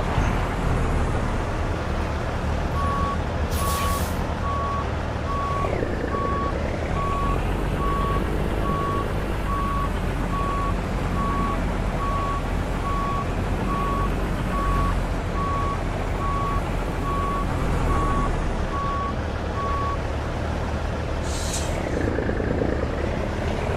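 Truck reversing in American Truck Simulator, a steady run of evenly spaced reversing beeps over a continuous low engine drone, with a couple of brief air hisses along the way.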